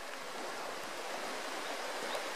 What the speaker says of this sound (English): There's the ocean out there.